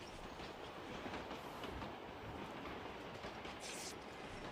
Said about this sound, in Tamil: இங்க பாருங்க இந்த ட்ரெயின் வந்து பொச்சின்கி டு பொச்சின்கி போய் நிக்குது